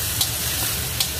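Minced ginger and garlic frying in a pan, a steady close sizzle with faint crackles and two brief bright spatters, no voices.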